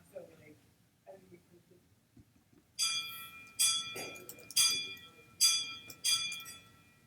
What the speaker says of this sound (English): the bell we do a prayer at 3 o'clock, a Divine Mercy prayer